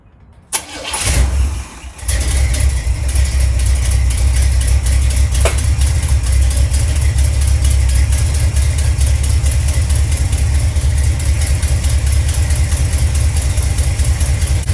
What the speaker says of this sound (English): Ignore the exhaust leak.